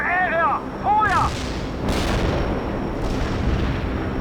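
An artillery barrage in the World in Conflict game: a clipped radio voice is followed by three heavy booming shell blasts spaced about a second apart, each with a long rumbling decay.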